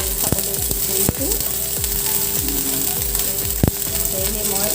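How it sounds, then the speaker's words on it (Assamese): Onions frying in a pan for an Assamese potato and eggplant pitika, a steady close sizzle with scattered crackles and pops throughout, no voices. "সেয়েহে মই অলপ পিঁয়াজখিনি ভাজি লৈছোঁ।"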